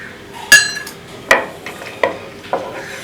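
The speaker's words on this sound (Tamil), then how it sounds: "எல்லாம் சேர்த்து கிளறணும்னா சுவையான வெள்ளரி பழ விதை பாயாசம் தயார்" Cucumber seed payasam with ghee-fried cashews, cardamom powder and saffron stirred in a pot: five distinct spoon clinks against the metal, spaced about half a second apart, over a quiet background.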